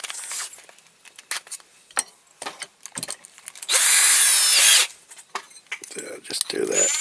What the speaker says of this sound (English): I'll put that in the drill and use that.